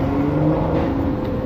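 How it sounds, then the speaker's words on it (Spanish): A Mercedes passing on a street in Dubai, a steady close engine whir and tyre roar that holds at an even, loud level for a brief moment with no talk over it. "Cuidado, que te va a atropellar un Mercedes"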